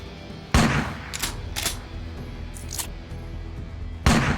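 Gunfire in the video game Underrail as an enemy is shot, with sharp loud bursts at the start and end and rattling shots between, game sound effects with no talking.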